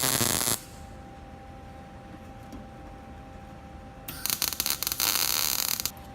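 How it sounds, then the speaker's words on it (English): Tack-welding a tab onto a sheet metal patch for a 1971 Mustang door rust repair: two bursts of crackling, buzzing welder arc, a brief one at the start and a longer crackle near the end, with quiet shop hum between. "So I'm going to weld on a tab to that piece of metal"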